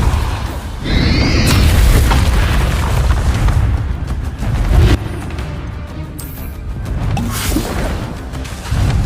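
Confringo and Bombarda spell blasts going off in the Hogwarts Legacy video game, a loud, dense run of booming explosions with swooshing bursts, several heavier impacts standing out above a constant roar of combat noise.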